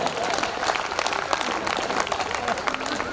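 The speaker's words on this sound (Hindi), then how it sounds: "तालियां भी बजा।" An audience claps along at a Hindi comedy stage show, a steady spatter of applause from a crowd running under ongoing voices.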